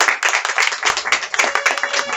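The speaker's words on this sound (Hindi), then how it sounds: "हाँ जोरदार ताली होना चाहिए मैडम के लिए।" An audience at a herbal store gathering claps for a woman presenter, a dense, steady patter of many hands filling the whole stretch, close and fairly loud.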